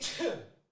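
A single short sneeze bursts out close and fairly loud, a sharp breathy blast that quickly fades into silence, on a casual talk podcast.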